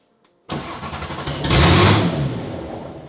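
A drifting car's engine cranks and catches, surging loudly for about a second before dropping away as it stalls, recorded up close over roughly three seconds.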